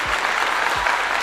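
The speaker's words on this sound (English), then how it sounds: "we got to give him a clap here." A short burst of applause from a crowd, loud and dense, filling the whole moment with steady clapping and no break.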